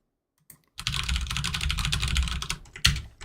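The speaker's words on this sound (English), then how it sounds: "this is a typing ASMR live stream as well" Rapid, continuous clicking of a computer keyboard being typed on up close, starting after a brief quiet moment and ending with a louder keystroke.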